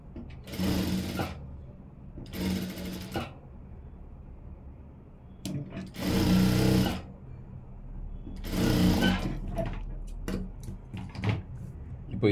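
A sewing machine stitches a blouse, running a large stitch in four separate bursts of a few seconds each with quiet pauses between, close and fairly loud, with a few faint handling clicks near the end.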